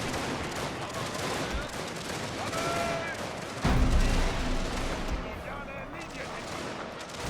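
Gunfire in a Prussian video game battle, with scattered shots and volleys popping over a dense, noisy battlefield din, one heavier blast standing out midway, while a voice talks faintly underneath.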